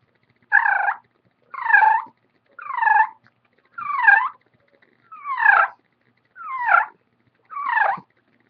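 Turkey purr imitated by a human voice using a gargling throat noise, seven evenly spaced rolling trills about a second apart, close and clear with silence between each.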